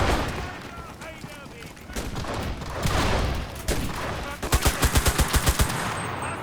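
Gunfire in the World War II shooter game Enlisted, with scattered shots and bursts building to a rapid string of about ten loud, evenly spaced reports near the end, over continuous battle ambience.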